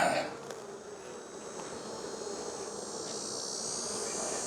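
Honey bees swarm around an open hive during an early September inspection, a dense, steady buzzing drone that fills the scene close by and alone, with no talk.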